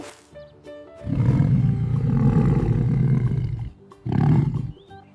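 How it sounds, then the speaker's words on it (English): A lion gives a long, throaty roar lasting more than two seconds after a few brief faint sounds, then a shorter second roar follows; both are loud and near with no talking. "Roar like a lion."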